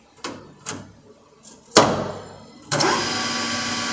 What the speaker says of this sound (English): So I'm going to power on the machine.